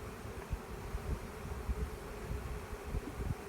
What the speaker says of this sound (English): The rest of the bees will go into the hive